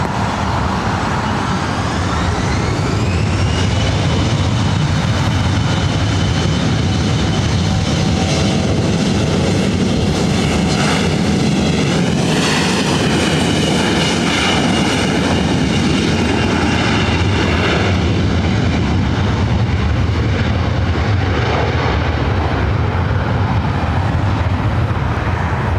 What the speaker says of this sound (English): Our next flight coming in from Reno, Delta Connection SkyWest flight 4099. It's an E175